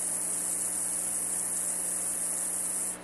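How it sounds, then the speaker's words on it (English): Hard drive chip data picked up through an EMF pickup coil from a faulty drive, a steady hiss of static laid over a constant low electrical hum that cuts off at the end. "That static is data going across the chip, so we know that this drive is sick"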